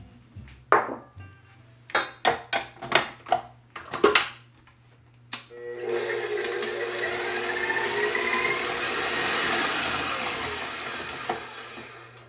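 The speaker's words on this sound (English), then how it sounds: "So you want to start by beating up your butter." Butter being beaten in a mixing bowl for cinnamon roll cookie dough: a string of loud clanks and taps of utensils, then an electric mixer whirring steadily and loudly for several seconds.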